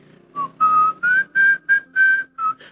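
A person whistles seven short, clear tonal notes in a quick choppy rhythm, imitating a horse-cart driver, close and alone with no talking.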